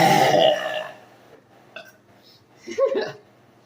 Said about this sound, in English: had to throw in the little baby burp at the end there